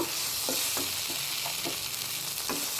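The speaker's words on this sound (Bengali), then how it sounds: "এবার টমেটো সসটাকে একটু ভালো করে একটু কষিয়ে নেব" Tomato sauce fries in a pan for an egg chilli capsicum dish, making a brief, steady sizzle with soft, rhythmic scrapes of a spatula stirring it.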